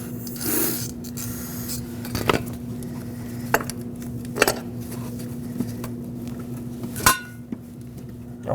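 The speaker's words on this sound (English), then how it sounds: "give it that little spray of brake parts cleaner" Short bursts of brake parts cleaner sprayed from an aerosol can onto an electrical connector while replacing knock sensors on a 2006-2015 Lexus IS250, heard as a few quick hisses among faint clinks of tools over a steady hum.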